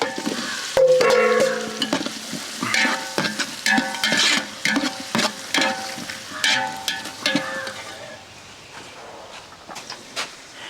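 Garlic paste, chopped capsicum and tomato sauté in a pan for a beef mandi. A spatula scrapes and stirs in repeated close strokes over a soft sizzle, and the strokes grow sparser toward the end.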